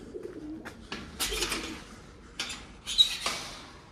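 Pigeons in a coop with a walking corridor, giving soft low coos with scattered wing flutters and scuffling bursts, fairly close and moderately loud, with no talking.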